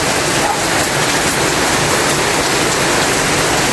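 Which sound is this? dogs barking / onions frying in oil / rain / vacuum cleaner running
rain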